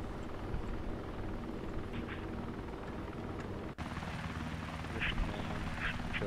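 Osprey tiltrotor aircraft in a video game landing on a carrier, a loud continuous rotor and engine roar filling the scene, briefly cut then resuming, with occasional faint voices.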